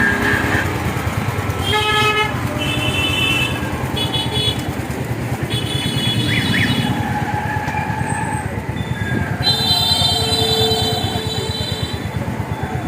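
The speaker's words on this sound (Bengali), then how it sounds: "ফ্রিকোয়েন্টলি অটো যাওয়া আসা করে" Auto rickshaws pass steadily on a busy road, with repeated horn toots rising over a dense wash of engine and traffic noise that carries throughout.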